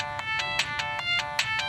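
A mobile phone ringtone rings in a room, repeating a bright electronic tone in quick regular pulses, close and clear over faint background noise.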